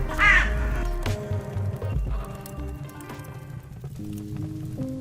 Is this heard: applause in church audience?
no